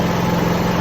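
A new backup generator runs indoors in a steady, loud engine drone with no change across a brief moment.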